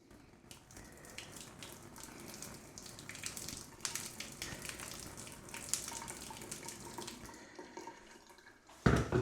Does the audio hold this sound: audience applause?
no